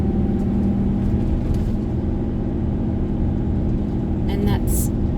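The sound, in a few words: 2020 Great Wall Steed ute driving on rough road, third gear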